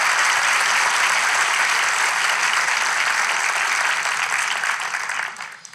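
A studio audience in İzmir applauds loudly and continuously at a relationship quiz show, a dense wash of clapping that fades away at the end.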